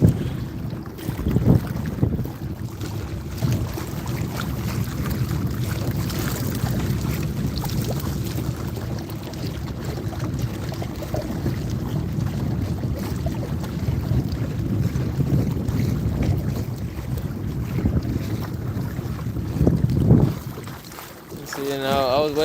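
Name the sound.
electric motor on modified kayak running at full power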